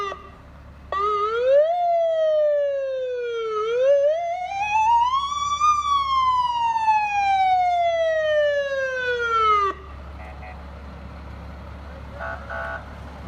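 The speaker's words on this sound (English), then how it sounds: "we may just drop out as the sirens will go off here" Police and fire vehicle sirens at a Cloverport Christmas parade wail loudly in long rising and falling sweeps for about ten seconds, then cut off and leave quieter street and crowd noise.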